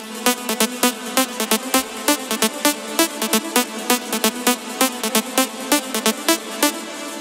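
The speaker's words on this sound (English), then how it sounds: "This is the main lead" A bright, buzzy synth lead from a future rave track built in FL Studio plays a fast, punchy rhythmic riff of short stabbed notes, loud and alone.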